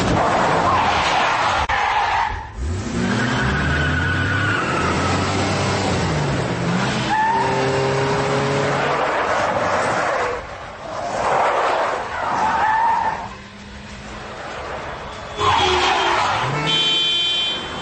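A car is started and driven off fast in a tense bomb-escape scene from a Hindi-dubbed Hollywood action movie, with loud revving engine and squealing, skidding tires throughout, dense overlapping car noise with brief dips.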